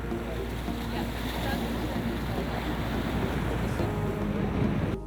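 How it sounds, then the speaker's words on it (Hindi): Sea waves surging beside the shore in the Maldives, a continuous broadband wash of surf mixed with wind rumble, loud and steady throughout with no distinct breaks. "और बगल में समुंदर जैसे उछाल मारता रहता है"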